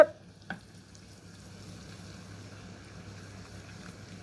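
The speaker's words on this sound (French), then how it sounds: "On remue constamment. Il ne faut surtout pas que notre beurre tourne. Il faut que ça reste mousseux." Butter foaming with ginger, four-spice and cinnamon sizzles softly in a pan, a steady low frying hiss with a couple of brief clinks at the start as the mixture is stirred.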